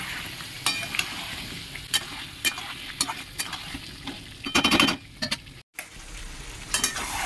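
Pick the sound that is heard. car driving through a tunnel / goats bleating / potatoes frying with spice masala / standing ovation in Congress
potatoes frying with spice masala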